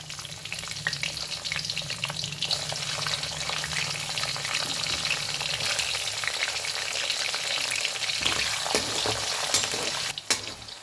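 Garlic with cumin and mustard seeds frying in oil for a homemade chilli pickle, a steady dense sizzle with faint stirring scrapes throughout and a few sharper clatters near the end, no voices.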